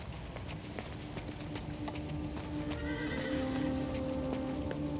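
A horse in the video game King's Bounty II whinnies over steady clip-clopping hooves, with a faint ambient hum underneath; the neigh swells louder near the end.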